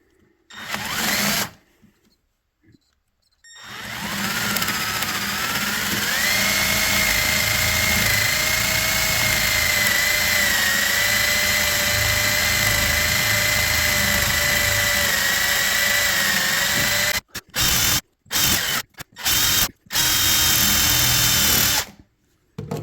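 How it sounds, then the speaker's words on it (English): Power drill boring a tapered hole through a piece of scrap wood for a handmade ring, a loud steady whine that runs almost twenty seconds after a short burst, then stops and restarts in several brief pulses. "this thing drills a tapered hole"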